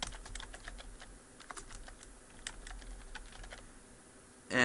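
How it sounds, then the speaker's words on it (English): Fingers type on a computer keyboard, producing a quick, uneven stream of light, close key clicks that ends in a louder thump. "you just type in Windows Media Player."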